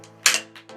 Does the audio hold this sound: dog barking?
no